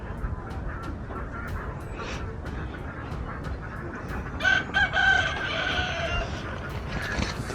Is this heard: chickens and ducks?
yes